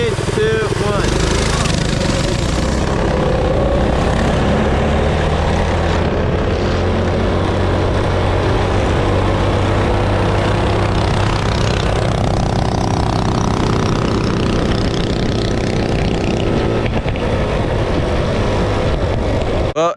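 Two small mini bike engines race side by side, one freshly rebuilt and faster, droning loud and steady for the whole stretch, the pitch rising and shifting as they accelerate and finally cutting off abruptly.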